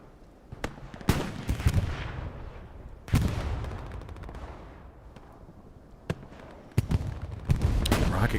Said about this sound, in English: Okay, and bombing run's coming in.